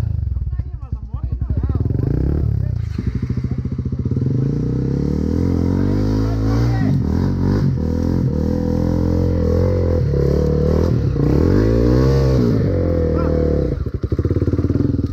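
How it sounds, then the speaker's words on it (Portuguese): A motorcycle engine revs loudly and repeatedly up and down as it launches on a trail, roaring close by, with a voice briefly shouting over it near the start. "lançamento de moto."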